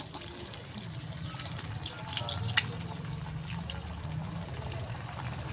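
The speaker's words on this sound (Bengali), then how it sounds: "বাঁধাকপি পাকোড়াটা হচ্ছে তো দেখা তেলে ছাড়ছে এখন শোনা" Cabbage pakoras fry in hot oil, a steady crackling bubbling close up with a low hum underneath.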